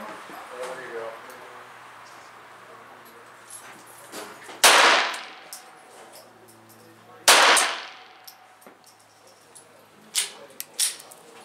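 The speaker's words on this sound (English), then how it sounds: "One-handed shooting, bullseye style." A Ruger Mk-2 pistol fires one-handed, bullseye style, as two sharp, loud shots about three seconds apart, each with a quick ringing decay; a voice talks briefly before them, and faint clicks follow.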